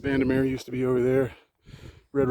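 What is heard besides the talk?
None of the usual background noises is heard.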